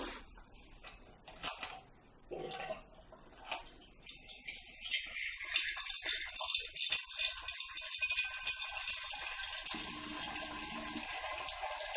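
Clear homebrewed pilsner wort pours into glass demijohns in a steady, close splashing stream that fills in after a few rattling clunks, with no voice heard.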